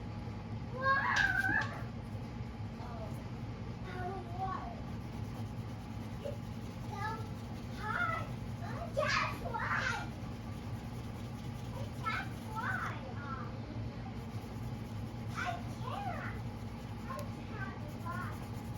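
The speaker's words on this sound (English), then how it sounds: "I apologize if you guys hear the kids screaming." Children screaming and playing somewhere in the background, faint high-pitched shrieks and calls recurring over a steady low hum.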